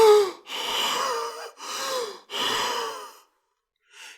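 A man gasping for air in a series of heavy, strained breaths, three long raspy gasps in quick succession, then a pause and a shorter final breath, close and clear with no other sound.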